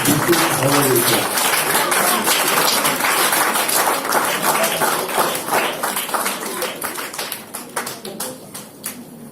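A Toastmasters club audience claps for two contest winners, a full burst of steady applause that gradually thins into scattered, separate claps toward the end.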